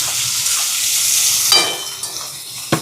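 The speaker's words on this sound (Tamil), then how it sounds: "வெங்காயம், இதோட கொஞ்சமாக சுத்தல் மிளகாய். இப்போ இது நல்லா வதங்கட்டுக்கும்." Onion, garlic and dried chili sauteing in a pan, a loud continuous hiss of frying with occasional scraping strokes and a sharp knock of the stirring spoon near the end.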